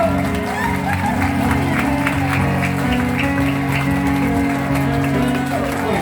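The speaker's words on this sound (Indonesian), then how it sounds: "Tepuk tangan dulu." A congregation claps at a church golden wedding anniversary celebration, rhythmic applause heard under loud continuous music and voices, with the clapping partly masked by the dense background.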